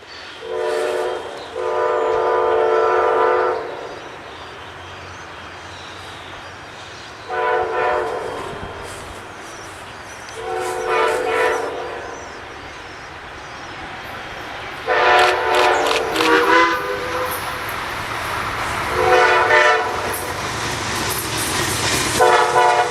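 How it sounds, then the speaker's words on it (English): An Amtrak train horn trades blasts with a steam locomotive's whistle on the Strasburg Rail Road, several separate multi-second calls spaced apart, one answering the other, loud and ringing over a low rumble of rolling trains. "the crews of both trains engaged in a small horn and whistle duel"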